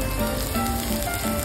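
Garlic fries in oil in a pan for fried rice, a steady close sizzle that continues unbroken through the short stretch, with no talking.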